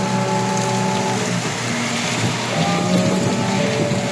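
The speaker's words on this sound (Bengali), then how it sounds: "অনেক অনেক বৃষ্টি, প্রচুর পরিমাণে বৃষ্টি" Heavy rain pouring down in a steady, dense hiss that stays loud and unbroken throughout, with a faint low drone running underneath.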